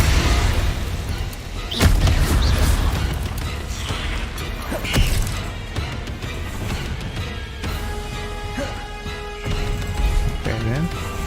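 Combat spells in Hogwarts Legacy set off explosions: deep booms and crashing impacts, a heavy hit near the two-second mark, then scattered blasts. Voices shout throughout.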